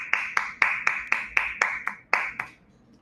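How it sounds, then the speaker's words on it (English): A small audience claps for the first participant of a PCOS awareness wellness program, a short burst of about ten sharp, fairly close hand claps that fade away at the end with no talking. "Let's have a round of applause for them."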